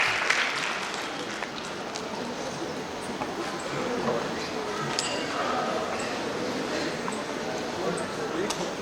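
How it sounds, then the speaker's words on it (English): A crowd at the 250th anniversary ceremony of Cantonment Board Barrackpore applauds to welcome the chief guest, producing steady, dense clapping that fills the whole stretch at a moderate distance, with faint voices mixed underneath. "May we welcome Sir with a huge round of applause."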